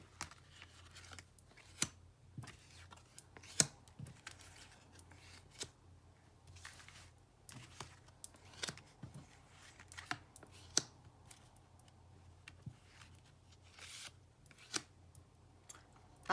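A deck of cards being cut and shuffled on a table, soft scattered flicks, slaps and rustles at irregular intervals, close and quiet over low background hum.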